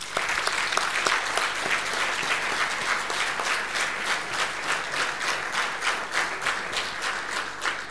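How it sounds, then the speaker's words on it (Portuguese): A dinner crowd at a volunteer fire brigade's anniversary celebration in Esposende applauds the brigade's board, sustained loud clapping filling the hall without a break. "para esta gente que se dedica, do ponto de vista da direção, eu também queria uma enorme salva de palmas"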